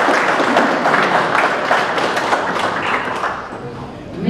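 Crowd applause at an outdoor ceremony marking the 140th anniversary of a volunteer fire brigade in Žarnovica, a dense, steady patter of many hands clapping close by, easing slightly toward the end, with voices murmuring underneath.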